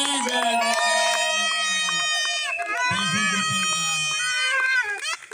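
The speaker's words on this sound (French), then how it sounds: "je vais demander à l'ensemble d'acclamer le couple très fort avec les cris de joie" Wedding guests at a civil marriage ceremony raise loud cries of joy and acclaim for the couple, a dense crowd of shouting and whooping voices that stays sustained and close throughout.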